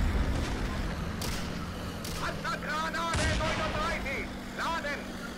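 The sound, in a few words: tank cannon firing a shell, Steel Fury Kharkov 1942 video game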